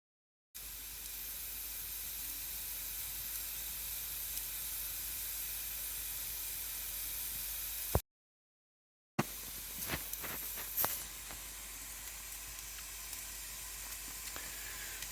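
Steady, broadband sizzling hiss from a rabbit spit roasting over a fire in Portugal, continuous and fairly close, briefly cut out and then returning with a few sharp crackles and pops.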